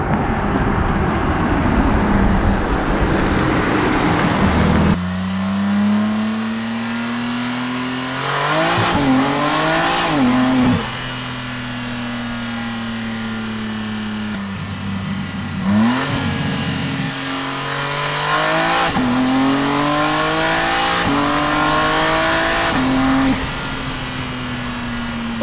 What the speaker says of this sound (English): my Uber is arriving